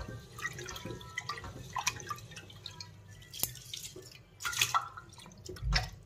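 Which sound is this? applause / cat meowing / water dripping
water dripping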